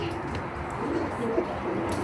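Racing pigeons in a loft coo softly and repeatedly, a low murmuring hum of several birds close by over a steady background, with no talk.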